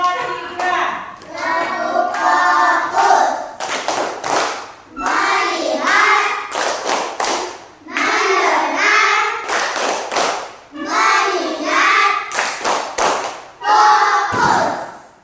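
A group claps in rhythm on a count, with sharp hand claps repeating between bursts of loud children's chanting voices, close and energetic throughout.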